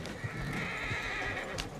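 Horse hooves clip-clop and a horse neighs in Red Dead Redemption 2, arriving near town stables; steady hoofbeats with a whinny over continuous outdoor game ambience, no talk.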